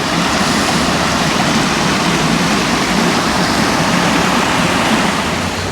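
Rushing water at Swan Lake in Sumter makes a steady, loud broadband roar that holds at an even level from start to finish, with no voices over it.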